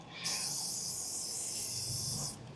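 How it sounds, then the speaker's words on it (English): Chain wax sprays onto the chain of a Kawasaki Ninja 400 motorcycle in one steady aerosol hiss lasting about two seconds, close and fairly quiet, then cutting off. "spin your wheel around, spray the wax on it, make sure it gets in there nice and good."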